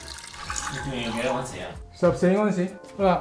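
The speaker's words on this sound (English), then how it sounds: "In a large pot, we'll add a can of chicken broth." Chicken broth from a can pours into a large soup pot, a soft watery splash running beneath steady close-up talking.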